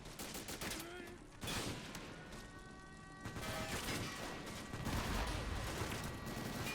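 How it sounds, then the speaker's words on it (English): Rapid rifle gunfire from an M1 Garand crackles through a close-quarters video game battle, with repeated sharp shots layered over dense background combat noise and occasional faint voices. "Look at that Garand going."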